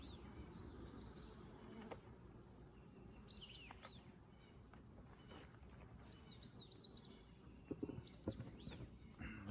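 Bees hum around an opened hive colony during an inspection, a soft, continuous buzzing drone with occasional louder passes of individual insects near the listener and faint bird chirps in the background.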